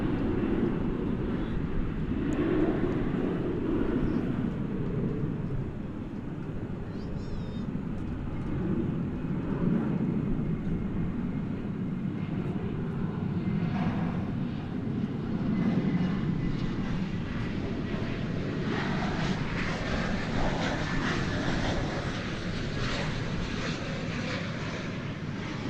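An airliner lands at DFW Airport on runway 18 right, heard as a steady loud roar of jet engines and rumble at a distance, swelling slightly toward the end without talk.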